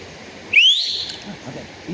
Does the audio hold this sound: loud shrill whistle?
yes